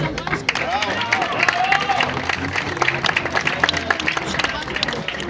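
At an award ceremony, with prizes from Sevlievo municipality, an audience gives steady, dense applause filling the whole stretch while a voice speaks over it.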